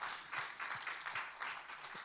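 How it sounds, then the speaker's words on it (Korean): Church congregation clapping in praise during a Korean worship service, a brief steady round of applause filling the sanctuary with a few distinct claps standing out. "우리 하나님께 감사와 영광의 박수 올려드리겠습니다."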